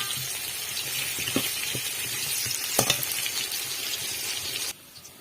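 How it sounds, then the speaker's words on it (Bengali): Potatoes frying with turmeric in a pan, a steady close sizzle with a few metallic clinks of a spatula, ending abruptly in near silence, no talking. "হলুদ দিয়ে ভালো করে আলুটা সুন্দর করে লাল লাল করে ভেজে নেবো।"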